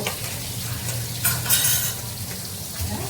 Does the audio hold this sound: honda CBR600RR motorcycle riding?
no